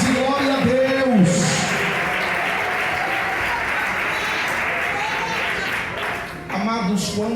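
A church congregation claps together in a long, steady burst of applause that fills the room. A voice speaks over the start and again at the very end.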